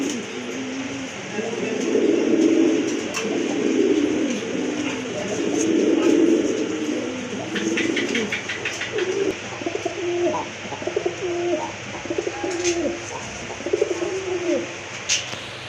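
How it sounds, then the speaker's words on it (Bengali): Pigeons, including a pair of red birds at a pigeon sale, coo in repeated soft, throaty rounds. The cooing is strongest in the first half, with scattered clicks and rustles later and a voice in the background. "দেখার মতো এক জোড়া কবুতর লাল গড়া কবুতর"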